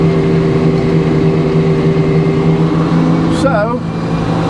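A sawmill engine runs steadily before a log is cut for new roof purlins, a constant mid-loud drone with a steady hum, briefly joined by a short high chirp near the end.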